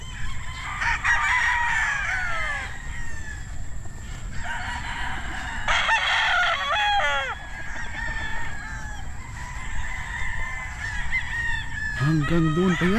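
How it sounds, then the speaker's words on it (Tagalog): Roosters crow repeatedly over a steady backdrop of clucking chickens on a farm, with a loud crow rising near the end; a voice is faintly present. "Ang daming magaganda ngayong mga manok dito guys."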